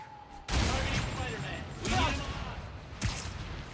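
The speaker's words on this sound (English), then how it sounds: "I got Roxxon Security trying to shoot at me right now as well" Roxxon Security guards firing at the player in Spider-Man: Miles Morales, three loud bursts of gunfire about a second apart, each trailing into rumble, with speech faintly mixed in.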